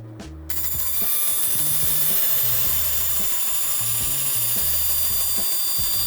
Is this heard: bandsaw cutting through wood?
yes